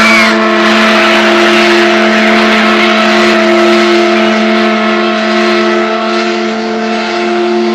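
An old vehicle engine in an anime scene runs with a loud, steady drone that holds a constant pitch without a break from start to finish, and no voices over it.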